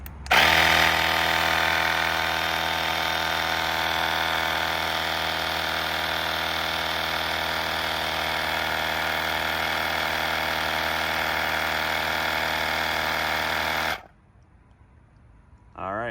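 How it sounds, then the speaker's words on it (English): AUXITO portable electric air compressor inflating a tire, a loud, steady droning motor hum running close for about fourteen seconds before cutting off abruptly, leaving quiet. "The portable air compressor actually works"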